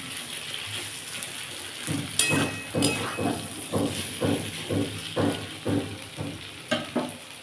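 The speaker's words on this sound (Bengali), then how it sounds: "এবার চাপা দিয়ে দিয়ে ভাঙলে তাড়াতাড়ি হয়" Fried potatoes and pointed gourd pressed and stirred in a frying pan, a soft steady sizzle broken by a series of rhythmic scraping pushes, close but fairly quiet.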